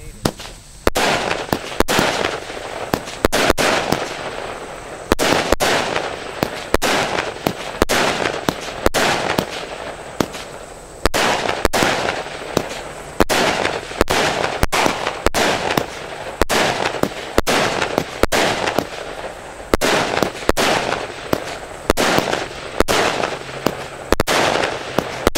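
A 36-shot fireworks cake fires off a long string of loud booming bursts in a fast, uneven rhythm, close and continuous for the full stretch, with crackling between the shots.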